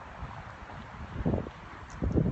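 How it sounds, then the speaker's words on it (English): Outdoor wind gusting into a microphone, low rumbling buffets that swell in two bursts over a steady breezy hiss, loud and close. "Why all of a sudden is the wind blowing?"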